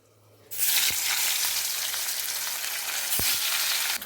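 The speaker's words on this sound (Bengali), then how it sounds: "তারপর আমি এর মধ্যে মাছগুলো একটা একটা করে দিতে থাকবো" Katla fish pieces dropped into hot salted mustard oil in a wok burst into a loud, steady sizzle that holds for several seconds, with a few sharp utensil taps.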